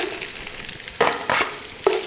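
Vegetables including carrots stirred in hot oil in a pan, with a few distinct scraping bursts over a steady low sizzle; close and moderately loud, no talking.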